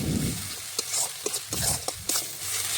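Spice masala sautéing for mutton biryani in a pot over a wood fire, a steady close sizzle broken by several scraping stirs of a spoon; no talking.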